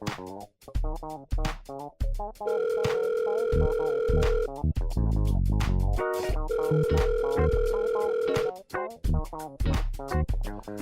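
Telephone ringing for an incoming call, with two long electronic ring bursts separated by a pause, heard over music and a voice.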